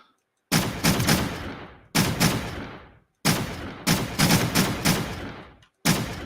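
Pistol fire in a video game, heard as four loud bursts of rapid shots in quick succession, each cut off abruptly, with no talking over them.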